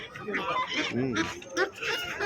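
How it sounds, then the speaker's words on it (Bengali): Ducks at a poultry market, including the large breed locals call king ducks, give honking, goose-like calls in short bursts, mixed with close market chatter and talking voices. "দেখেন যে কত সুন্দর হাঁস"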